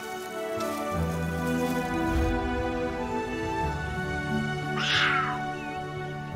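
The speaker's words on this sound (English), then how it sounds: "These young cheetahs are top cats in the making." Drawn-out, tonal calls from young cheetahs, like high mewing chirps over a steady background, with a sharper squeal rising near the end.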